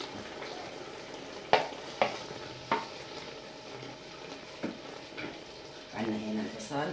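Eggplant is frying in a pan, giving a soft, steady sizzle under several sharp clinks and stirring knocks from utensils against the pan.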